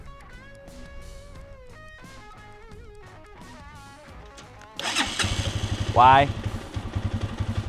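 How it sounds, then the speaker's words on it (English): A motorcycle engine is started in gear with the clutch pulled in: a starter cranks, then the cold engine catches with a loud bark and settles into a rough, pulsing idle, with a voice speaking briefly before. "you can just pull in the clutch and, you know, start it in gear"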